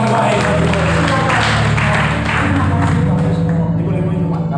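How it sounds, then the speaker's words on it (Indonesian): Church congregation applauding during a sermon, a dense, steady wash of clapping from a large crowd that holds loud throughout, with a low musical hum beneath and a few voices mixed in. "Beri tepuk tangan yang terbaik."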